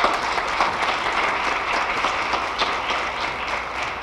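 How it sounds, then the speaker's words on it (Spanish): Audience at a youth and family forum applauds a doctor introduced as a speaker, a dense, steady wash of many hands clapping that stays loud and even for the whole stretch, with no voices over it. "Un fuerte aplauso para el doctor,"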